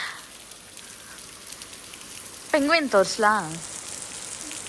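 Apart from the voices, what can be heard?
rain falling by resort plunge pool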